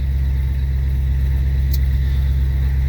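A Ford FE V8 truck engine idles steadily on a cold start in freezing weather, a loud, constant low rumble dropping down from fast idle, with no voices over it.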